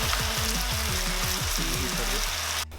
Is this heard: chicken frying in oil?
yes